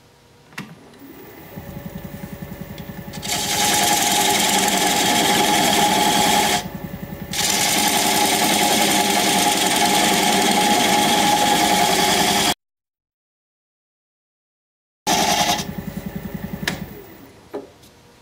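A wood lathe spins a bowl blank at 635 RPM while a 1/2-inch bowl gouge cuts, a steady motor hum with a rough grinding tone, briefly stopping midway, then cutting out and returning.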